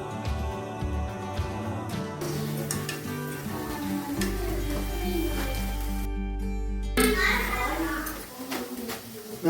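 Crispy potato snack bites fry in a pan of oil with a steady sizzle, under ongoing talk and music, with occasional clinks of utensils.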